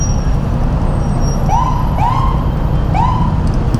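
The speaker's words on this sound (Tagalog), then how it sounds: "Sundan natin yung ambulansya." An ambulance siren sounds in traffic, a few rising yelps that are moderately distant and partly buried under steady road noise.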